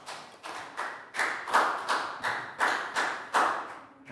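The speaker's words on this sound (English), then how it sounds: "big round of applause for Down" A small class gives a pupil a round of applause, a short patter of near, roomy clapping in loose bursts that swell and fade over a few seconds.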